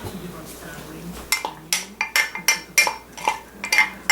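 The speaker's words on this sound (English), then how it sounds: "Better give me a spoon so I can scrape the sides." A spoon scraping and clinking against the sides of a mixing bowl of dry baking ingredients, close and fairly loud, about a dozen quick rhythmic strokes after a quiet moment.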